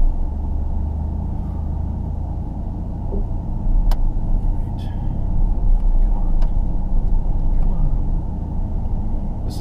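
A truck hauling bales grinds uphill, its engine a loud, low, steady rumble that swells and strains, with a few sharp knocks and rattles on top.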